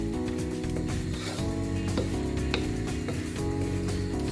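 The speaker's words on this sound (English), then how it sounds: "Give it a good stir." Chicken stir fry sizzles in a pan while being stirred, a continuous loud frying hiss with clattering utensil scrapes and knocks against the pan, close and busy throughout.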